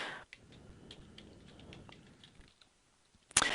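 Fingers type on a computer keyboard in quick, light clicking bursts for a couple of seconds, then a pause of near silence and a sharp louder tap at the end.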